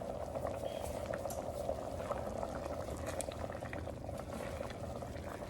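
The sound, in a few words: pot of liquid coming to a boil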